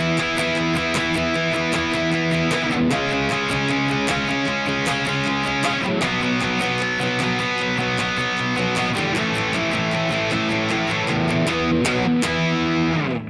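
Distorted electric guitar chugs through the bridge of a song, steady eighth-note power chords with regular chord changes, loud and close with no voice.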